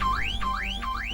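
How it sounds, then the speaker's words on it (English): A Cobra car alarm on a 1988 Holden VN Commodore Calais wails in loud, repeating rising sweeps, about three cycles in quick succession, close and unbroken. "If a thief somehow got past Calais' Cobra alarm system"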